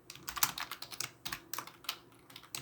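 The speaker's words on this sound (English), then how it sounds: "what we need to do is just type in pin mode" Quick, irregular bursts of keystrokes on a computer keyboard while Arduino code is typed, heard close and fairly quiet, with short pauses between runs of clicks.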